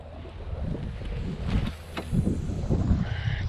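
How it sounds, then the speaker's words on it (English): Strong gusting wind buffets the microphone while out kayaking on open water, a loud rough roar that surges and eases in waves with no talking. "Bloody hell, that's windy"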